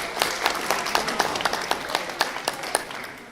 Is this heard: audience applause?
yes